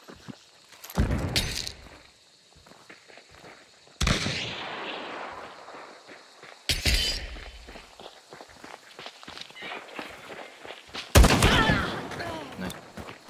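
Several loud gunshot bursts in Hunt: Showdown, spaced a few seconds apart, each a sharp blast with a ringing tail, over quieter footsteps and movement with no one speaking.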